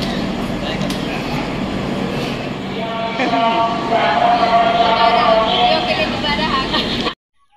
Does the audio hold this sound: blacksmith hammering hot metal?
no